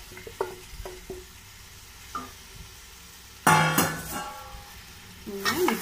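Cooked beef being stirred into a sizzling biryani masala in a pan, with a few soft scrapes and clinks early on, then a louder burst of frying and stirring near the end.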